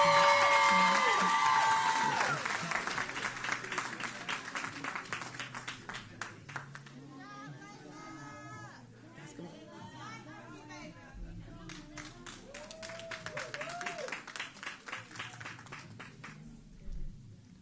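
Audience applause for young ladies at a Dr. Martin Luther King Jr. oratorical contest, loud clapping at the start that thins out, with a voice and scattered sounds over quieter stretches.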